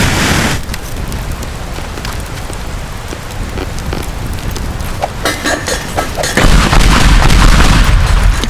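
Bombs explode in the Teardown video game, a dense stretch of crackling debris and rumbling blasts that swells into a heavy, loud boom toward the end.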